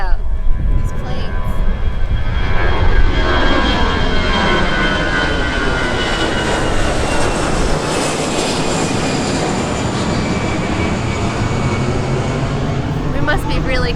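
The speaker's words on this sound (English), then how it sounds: "Is a plane coming? Second. Yeah, check this out. These planes." Loud jet airplane roar near an airport, swelling and sweeping steadily overhead for the whole stretch near a Maya Key cruise stop, with a broad rumbling wash that slowly shifts in pitch.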